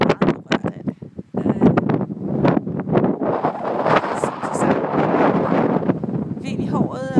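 Wind gusting hard across the microphone outdoors on Djursland, a steady heavy roar with rustling bursts that runs almost throughout, under and after a voice speaking at the start.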